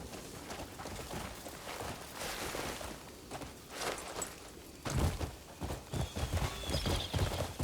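In the video game Crimson Desert, a horse's hooves gallop at a quick, rhythmic clip-clop pace over ground. The hoofbeats are close and continuous and grow heavier in the last few seconds.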